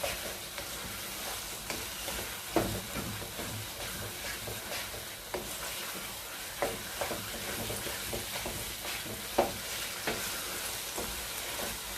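Semolina roasts in a pan for makhandi halwa while a spoon stirs it back and forth, making a steady dense sizzle with periodic sharp spoon knocks against the pan.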